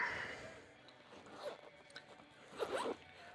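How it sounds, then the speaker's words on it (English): A zipper slides open on a survival kit pouch in a few short rasping pulls, the longest and loudest near the end, close up in a quiet setting. "you roll out the zippers"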